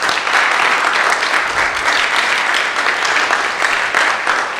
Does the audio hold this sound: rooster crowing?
no